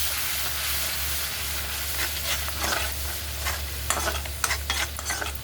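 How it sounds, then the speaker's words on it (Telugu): Food frying in oil in a pan while being stirred for a paneer masala curry, a steady close sizzle with scraping stir strokes growing more frequent toward the end, no voices. "అదే నూనెలో ఇది వేయిస్తున్నానండి."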